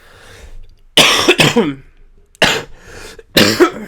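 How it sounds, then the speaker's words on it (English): Three separate coughs, loud and close, with short pauses between them and a quiet room behind. "Still got a bit of a cough"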